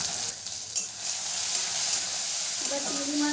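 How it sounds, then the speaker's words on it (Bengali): Prawns seasoned with salt and turmeric fry in hot mustard oil in a kadai for lau chingri, giving a loud, steady, close sizzle with crackling hiss throughout. "এবার চিংড়ি মাছটা আমি ভালো করে ভেজে নেব"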